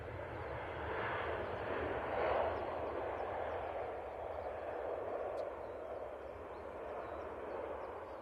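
Lufthansa airliner touching down smoothly, a broad, rumbling engine roar that swells slightly early on and then holds steady at moderate distance, with no voices over it.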